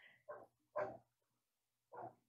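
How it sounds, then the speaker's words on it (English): A recorded dog barks three times through a loudspeaker, sounding as if just outside a window or elsewhere in a house, with short sharp barks spaced unevenly and fairly quiet. "this might emulate the sound of a dog that's just outside your window or somewhere in your house"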